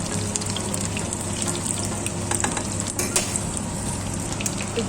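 Chicken drumsticks frying in oil, a dense continuous sizzle with scattered crackles and spits close by, alone without voices.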